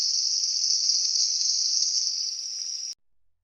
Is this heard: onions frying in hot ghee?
yes